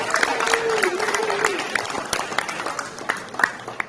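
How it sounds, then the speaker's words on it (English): Audience applauds at a high school signing day ceremony, a dense, continuous clapping with occasional sharper claps and a faint voice tone running underneath early on. "One more round of applause for Garrick Crowder heading to the Naval Aca"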